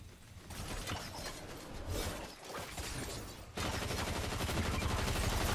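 Dense, continuous gunfire in the Fortnite battle-royale game, with overlapping rapid shots and mechanical clatter that intensifies sharply near the end, no voices.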